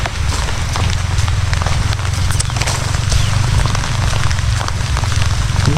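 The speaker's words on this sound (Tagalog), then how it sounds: "Malakas na naman yung ulan" Heavy rain pours steadily, a dense, continuous wash of noise with drumming patter throughout, loud and close.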